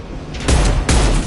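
Gunfire aimed at a loose fuel tank in the video game Mass Effect 2, heard as two loud, close bursts of rapid shots about half a second apart with no voices.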